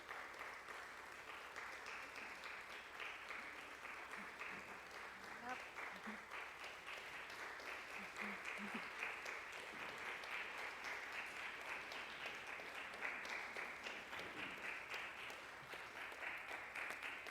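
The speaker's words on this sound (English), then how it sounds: "Very strong applause over there." Church congregation applauding during a Unitarian Universalist worship service, a sustained wash of clapping from many hands in a large room, steady and fairly distant, lasting the whole stretch without a break.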